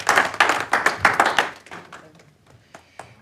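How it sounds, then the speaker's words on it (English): Audience applause at a business networking event in Edinburgh, a burst of clapping from a small crowd that thins out and fades to scattered claps within about three seconds. "Round of applause."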